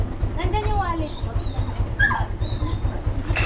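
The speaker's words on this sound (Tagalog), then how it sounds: "Mga aso nila." Dogs whimper and yip in short, rising cries close by, mixed with a steady low engine rumble and people talking at the same time.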